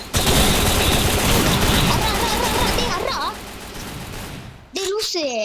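Rapid bursts of gunfire in the Free Fire mobile battle game, dense and loud for several seconds before easing, with a voice speaking near the end.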